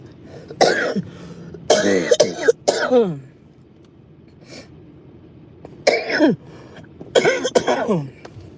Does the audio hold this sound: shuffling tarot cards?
no